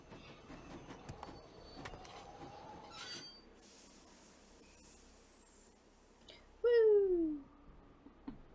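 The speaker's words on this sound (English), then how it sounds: "Sounds like the train's leaving." A train departs in a Nancy Drew video game: ambient rumble and clatter, then a loud, sliding whistle blast rings out near the end, briefly dominating before fading.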